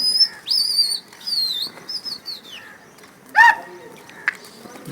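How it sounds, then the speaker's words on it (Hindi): Pigeons return to a loft, giving bird calls and chirps with brief wing flaps, fairly close and in short bursts over a quiet background. "ये कबूतर हमारे वापसी आ गए।"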